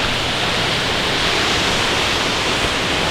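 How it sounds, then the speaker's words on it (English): A waterfall in the Blue Ridge Mountains rushing in a dense, steady roar of broadband water noise, loud and close, continuous with no voices. "Bye, waterfall."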